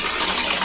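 Water runs from an opened tap as a steady close hiss and splash with no break, and no voice.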